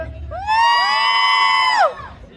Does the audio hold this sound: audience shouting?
yes